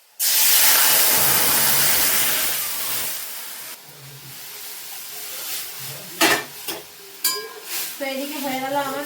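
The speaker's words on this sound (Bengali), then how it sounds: "এই যে রসুন সুন্দর রসুনটা একটু ভাজবো" Garlic hits hot oil in a pan with a loud burst of hissing sizzle that gradually settles into softer frying, followed by some stirring clatter and a voice speaking near the end.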